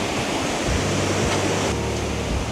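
Powerful rushing water crashing and splashing at the Rio Cobre in Jamaica, a steady close, loud broadband roar throughout with no talk.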